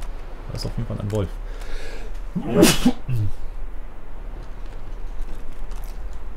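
A single abrupt, loud sneeze bursts out in the middle of relaxed German conversation, with talk before and after it.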